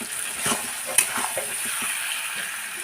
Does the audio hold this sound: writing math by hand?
no